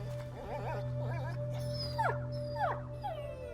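A dog whimpers, yelps and howls in the video game A Plague Tale: Innocence, several rising and falling cries over a low steady ambient drone, moderately close and without speech.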